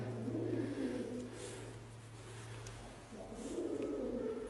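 Pigeons cooing inside an abandoned church, soft repeated low coos in two bursts, fairly close, over a faint steady hum.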